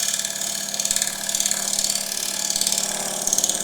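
A steel scraper cuts side grain on a wood lathe while a wooden table lamp is turned, giving a steady, close, loud rasping chatter with a fast regular ratcheting pulse and no talk.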